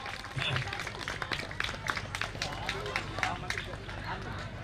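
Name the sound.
audience applause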